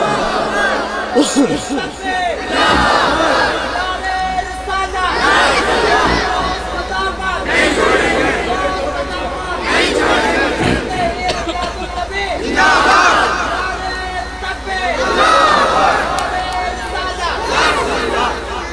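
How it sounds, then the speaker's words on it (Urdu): At a naat mushaira in Jais, an audience shouts a slogan response in repeated loud bursts, a caller's voice followed each time by a massed chant from the crowd, for several rounds. "نعرے کا جواب دیجیے آپ لوگ."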